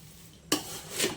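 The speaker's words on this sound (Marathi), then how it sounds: "जास्त ढवळायचं नाहीये, थोडं ढवळायचं." Puffed rice chivda (bhadang) with curry leaves being stirred in a pan, giving two brief scraping, rustling strokes close by after a quiet start.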